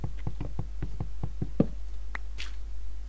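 A wooden door used in Minecraft, heard as a quick series of about eight hollow wooden knocks in a regular rhythm, followed by a couple of softer clicks, close and clear over a low steady hum.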